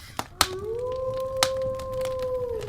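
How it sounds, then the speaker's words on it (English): A single long, steady wolf howl holds one pitch before dipping at the end, with a few sharp clicks and knocks scattered around it. "As the wolf howls, it brings forth the close to this particular podcast"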